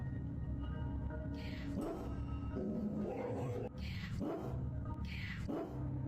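A dog whimpers and barks in a video being played back, muffled yelps and whines rising over a constant rumbling background while voices are heard.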